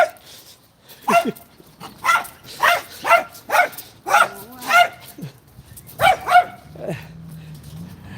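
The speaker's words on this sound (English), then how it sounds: "Oh, nice doggy." A dog on a street in Punta Arenas barks in a quick series of sharp, close, loud yaps, then lets out a drawn-out whimper near the end.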